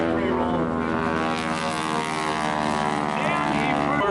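A propeller aircraft drones loudly and continuously at an airshow as it performs a full horizontal victory roll, the engine tone shifting slightly, with an announcer's voice partly under it.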